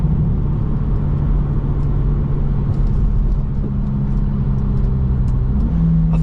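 A loud, slammed VW Scirocco R drives past with a heavy, continuous engine rumble and steady exhaust drone, heard from outside the car.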